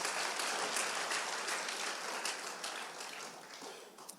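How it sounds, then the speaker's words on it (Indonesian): A congregation at a Sunday church service applauds the praise and worship team, a fairly faint, rain-like patter of many hands that gradually thins and softens. "Boleh tepuk tangannya di extend buat tim praise and worship kita."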